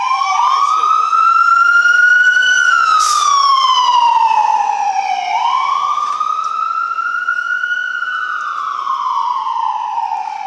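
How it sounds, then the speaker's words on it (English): An ambulance siren wails in long rising and falling sweeps, loud and steady throughout, dominating the scene with no clear voices over it. "it looks like the ambulance is coming this way"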